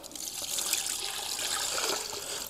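Water poured from a length of bamboo splashes and trickles over raw chicken being washed, a steady soft stream close by with no talk.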